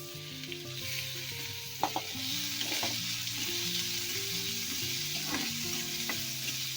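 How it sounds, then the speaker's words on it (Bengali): Finely chopped onion frying in a pan over medium heat, a steady close sizzle with a few light scrapes and clinks of stirring, and no voices. "হালকা পেঁয়াজটা ভাজা ভাজা হয়ে গেছে"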